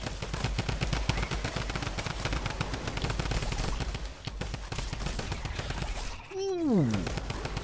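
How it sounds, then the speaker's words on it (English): A Tommy gun fires in rapid bursts during Fortnite gameplay, a dense rattle of automatic shots that runs for several seconds with a brief lull, ending in a descending whistling game effect, while a voice speaks over it. "Tommy gun!"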